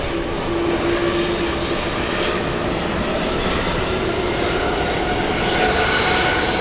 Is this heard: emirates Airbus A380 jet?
yes